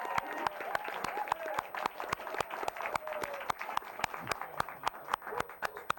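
An audience applauds for a singer, steady dense clapping with sharp individual claps standing out, filling the whole stretch with a faint voice or two underneath.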